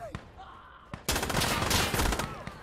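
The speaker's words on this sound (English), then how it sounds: "You shot me." Gunfire in the video game Insurgency Sandstorm: a couple of isolated shots, then a sudden dense burst of rapid automatic fire that rattles on loud and close to the end.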